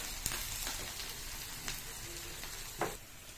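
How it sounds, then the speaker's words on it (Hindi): Chopped onions frying in a pan for a chicken curry, a steady soft sizzle with a few sharper crackles and stirring clinks, fairly quiet and close, with no voices over it. "देखिए हम लोग का प्याज अब भुना रहा है।"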